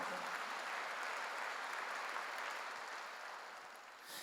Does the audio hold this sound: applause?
yes